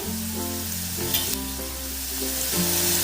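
Chopped onion frying in a pan as the base for a spicy Maharashtrian peanut aamti, giving a steady close sizzle with light stirring and no talk.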